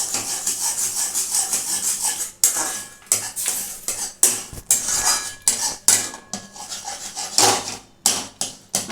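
A spoon scrapes and clinks against a pan while stirring a sweet mixture of milk powder and bread, with repeated rubbing strokes and sharp metallic knocks in an uneven rhythm, close and fairly loud.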